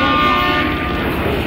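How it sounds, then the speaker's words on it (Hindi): A large ship's horn sounding at the Alang shipbreaking yard, one loud sustained low blast with a rich stack of steady tones, close and filling the whole moment. "हॉर्न भी बजा आपने शायद सुना हो तो।"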